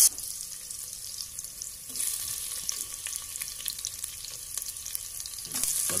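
Onions and ginger frying in a pan give a steady, close hiss and sizzle that runs throughout, with small crackles and no talking.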